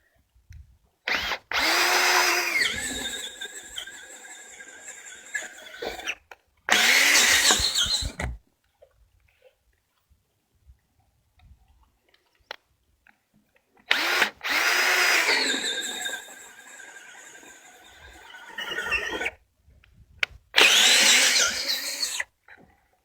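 A drill driving a sharp self-feeding Forstner bit into a timber-frame tie beam to bore a brace mortise, heard as two loud, sustained bursts of whining, grinding boring, each cut off abruptly, with near-silent pauses between them and no talk.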